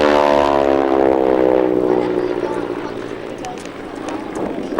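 Aerobatic airplane with a 600 hp, 1,340 cubic inch radial engine at an air race in Tasmania, a loud droning propeller roar that slowly fades under a voice.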